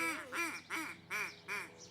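A duck call imitates a hen mallard in a rhythmic cadence of five nasal quacks, loud and close, evenly spaced.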